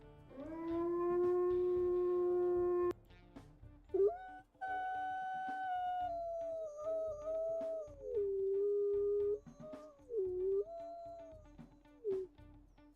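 A wolf howls in a video game, a long sustained tonal howl rising and falling, then a second drawn-out wavering howl that bends down and back up, close and loud over a quiet steady background hum.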